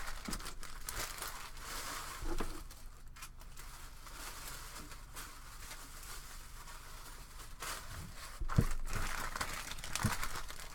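Trading card pack wrappers, empty foil packs from an NHL card break, crinkle and rustle almost continuously at close range, with a few louder crumpling bursts near the end and no talking.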